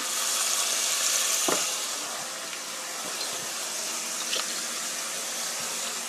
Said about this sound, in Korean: 마트에서 갈아온 고기를 볶아주세요